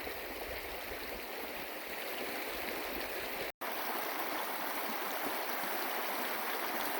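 Flowing creek beside a backpacking trail in bear country, a steady, close wash of rushing water with no voices and one instant dropout midway.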